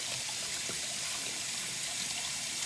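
Water runs in a steady, hissing stream for washing wild persimmons, probably in hot water, with constant splashing and no breaks.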